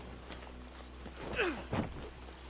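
Horse hooves clip-clop in the video game Red Dead Redemption 2, a few soft hoofbeats under a low steady hum, with two louder knocking, creaking movements in the middle.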